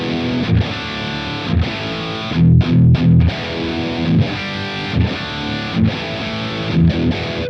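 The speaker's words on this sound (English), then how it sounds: "Now the Insane amp sounds like this." Electric guitar through a Positive Grid Spark amp set to the Insane high-gain model, playing loud, heavily distorted chords with short rhythmic breaks and brief stops, with no voice over it.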